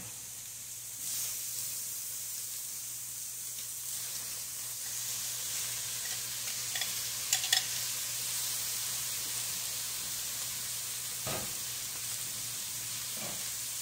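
Tomatoes stirred into a sizzling pan of Texas-style beef and chicken fajitas, giving a soft, continuous hiss with a few faint utensil clicks and scrapes along the way.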